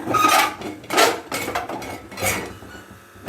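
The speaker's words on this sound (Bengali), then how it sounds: "প্রেশারের ঢাকাটা খুলে নিলাম এবার উপরের এই ঢাকনাটা আমি খুলে নেব" A metal pressure cooker lid being lifted off in a home kitchen while baking a cake, a few loud clattering metallic scrapes and knocks at close range, no talking.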